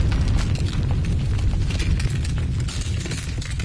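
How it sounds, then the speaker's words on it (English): A huge explosion of a transmission tower in the video game Alone With You: a dense, roaring blast with crackling debris and heavy low rumble, loud and sustained throughout, with no speech. "I registered a huge explosion."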